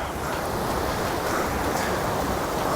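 A fast-flowing, icy cold river in the wilderness outskirts of Kalam, a steady loud broadband rush of water that fills the whole stretch without letup, with some wind buffeting and no talking.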